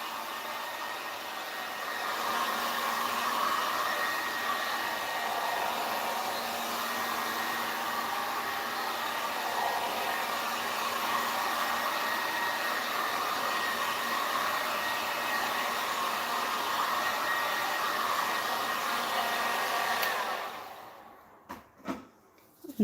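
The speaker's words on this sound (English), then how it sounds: "I'm just going to give it a little bit of a heat with the heat gun" A heat gun on low setting blowing over a resin-coated 16 by 20 inch canvas, a steady airy rushing hiss held for about twenty seconds before it switches off, followed by a few soft clicks.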